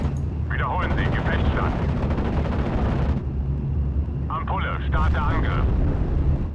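In the Steel Division: Normandy 44 video game, aircraft drone overhead while bursts of gunfire rattle down on infantry, heard under steady speech and battle noise.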